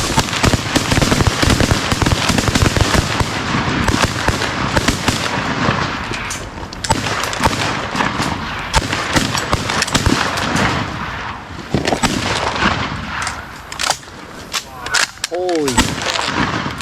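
Shotguns fired at birds during a hunt, a rapid volley of loud close blasts, many overlapping, with people calling out and talking among the shots.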